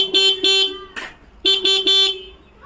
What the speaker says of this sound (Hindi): इससे देखो एक बार हॉर्न बजवाओ